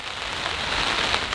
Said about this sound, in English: while it's all rainy and windy out there